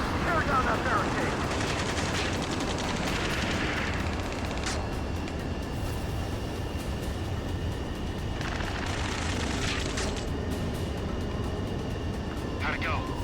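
Sustained automatic gunfire and explosions pound a barricade in the combat video game Ace Combat 7, a dense, continuous roar with rattling bursts and aircraft rumble, and a voice is heard amid the din.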